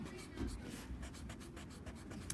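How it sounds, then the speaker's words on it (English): Small eraser rubbing over a shaded pencil drawing around the ears, a quiet continuous scrubbing with brief strokes, close and alone. "I want to use my small eraser to cut those out"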